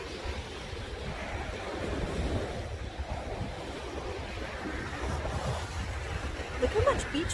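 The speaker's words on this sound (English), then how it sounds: "Waves." Ocean surf rolls onto a sunny beach below cliffs, a continuous low roar of breaking waves with wind buffeting the microphone and voices talking over it.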